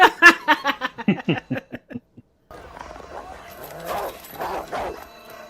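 A dog barks in a rapid string of sharp, close barks that trail off, followed after a pause by a quieter stretch of murmuring and faint background sound.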